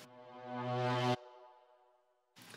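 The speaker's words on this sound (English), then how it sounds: "So I just took a brass sound from the Cashmere pack and reversed it to make it sound like this." A reversed brass sample from the Cashmere pack swells up from silence to a loud peak and then cuts off abruptly, with a light reverb tail trailing after and a brief new sound at the end.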